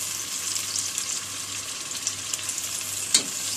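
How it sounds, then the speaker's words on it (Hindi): Onions with ginger garlic paste fry in a pan for a mixed vegetable dish, making a steady, close hiss of sizzling oil broken by one sharp scrape of a spoon near the end. "अभी मैं इसमें ये जिंजर गार्लिक पेस्ट डाल रही हूँ,"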